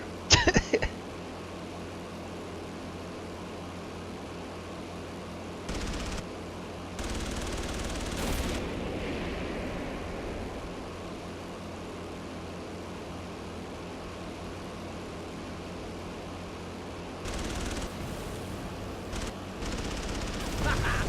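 Aircraft guns firing in the video game Battlestations: Midway: a short burst of rapid shots at the start, then several broad bursts of gunfire spread through the rest over a steady engine drone.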